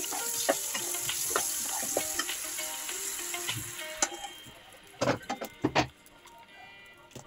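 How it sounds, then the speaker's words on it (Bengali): Potatoes fry in oil in a wok, a soft, steady sizzle with scattered stirring clicks and taps, then a few louder clatters of utensils near the end, without any voices. "এবার আমি আলুগুলো ভেজে নেব।"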